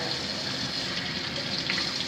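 Steady water pouring from a tap, a constant close rushing hiss without pause.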